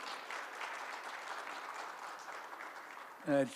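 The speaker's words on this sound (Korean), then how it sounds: "다시 한번 박수로 환영해 주십시오." A forum audience applauds to welcome a speaker at a youth leaders' conference in Jeju, with a continuous mid-level patter of many hands and a brief louder sound near the end.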